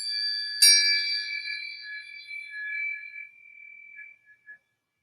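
Tuning forks clinked together at a right angle, where the corners meet, give a sharp metallic strike followed by bright sustained ringing tones that slowly fade over several seconds, with a couple of faint later taps.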